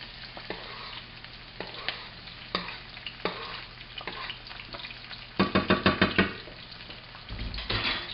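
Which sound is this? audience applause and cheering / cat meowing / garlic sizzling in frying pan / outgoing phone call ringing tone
garlic sizzling in frying pan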